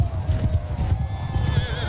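A horse in the Mount & Blade II Bannerlord video game gallops with quick, steady hoofbeats and lets out a whinny, loud and close, over a low rumble of battle.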